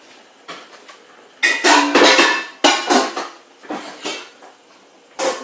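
A big metal pasta pan handled in a home kitchen, with several loud clanks and scrapes in bursts, metal knocking against metal and other cookware, close up with no talk.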